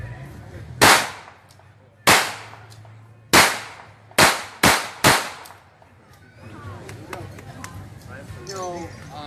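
A WWII-era weapon fires at an outdoor demonstration, six loud, sharp shots at uneven intervals with echo, the last two close together, followed by distant crowd murmur.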